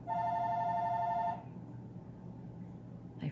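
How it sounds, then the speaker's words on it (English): A telephone rings with a steady electronic trill for about a second and a half, then cuts off, leaving quiet room tone and a faint clatter at the end. "My phone never stops ringing"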